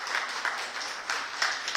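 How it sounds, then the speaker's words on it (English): A small group of culinary job-training graduates claps at their graduation ceremony, a quiet, thin patter of hands with a few slightly louder bursts, sounding sparse and somewhat distant. "So give yourselves a round of applause."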